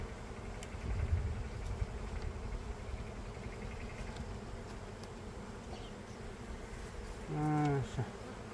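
Dense, steady buzzing of many honeybees inside a well-populated hive during late-summer treatment, a close continuous drone throughout with a short tonal whine near the end.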